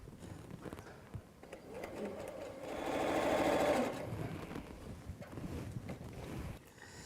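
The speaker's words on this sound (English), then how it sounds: "We're just going to have you sew the top to the bottom" A sewing machine runs steadily while stitching quilt pieces top to bottom for a throw quilt, a soft mechanical whir that swells in the middle and eases off, heard close but quiet.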